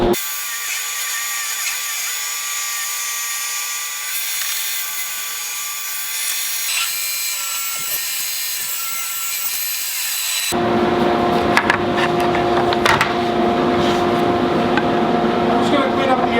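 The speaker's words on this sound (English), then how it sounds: "it's shaving layers off the top until the top is perfectly parallel with the bottom" A planer shaves layers off firewood cut into lumber, a continuous loud whining rasp near at hand that breaks off midway into different, rougher tool and handling noise.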